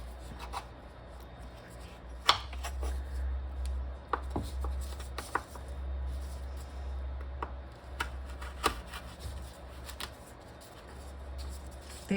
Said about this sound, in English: They are a little harder to chop when they're frozen